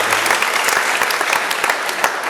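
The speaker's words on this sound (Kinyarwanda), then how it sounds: "Mwongere mufashe dukomere amashyi umwongere wacu." Many people in a church audience clap together in a brisk, sustained burst of applause, loud and even throughout with no break.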